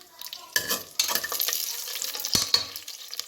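Garlic cloves drop into hot oil and sizzle in a pan, with a sudden burst of crackling that holds steady, broken by a couple of stirring scrapes, close and fairly loud.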